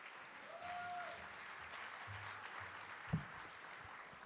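A conference audience at a general session applauds to welcome a speaker to the stage, heard as faint, distant, steady clapping with a soft thump partway through.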